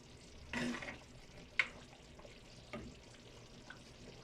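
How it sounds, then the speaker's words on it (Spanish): Adobo sauce poured into a pan for chanclas poblanas, with a soft sizzle and a few quiet scraping stirs and a light utensil tap against the pan, faint and close, without talk. "Es cuando le agregamos nuestro adobo."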